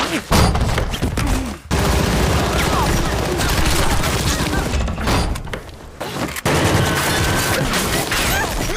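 Loud, dense bursts of gunfire and crashing impacts from an action film fill the scene, with a few sharp breaks between volleys amid chaotic action noise, including shots fired from beneath a floor.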